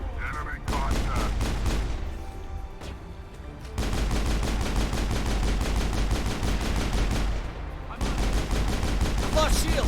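Rapid automatic gunfire from the Mass Effect video game, dense bursts of sharp repeated shots broken by brief pauses, loud and continuous across the scene without clear speech.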